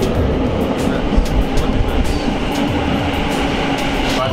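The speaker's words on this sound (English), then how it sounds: "oh look, our train's here" A train pulling into the platform at Shinjuku station in Tokyo, a loud continuous rumble and rush of wheels with rhythmic clatter and faint squeals, close and alone without talk.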